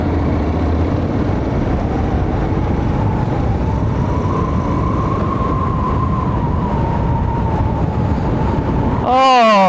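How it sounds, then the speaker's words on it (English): Heavy wind roar buffets the microphone while riding an XADV motorbike, a constant dense rumble with a faint rising engine tone throughout. "Oh, I can feel the wind blowing through my helmet."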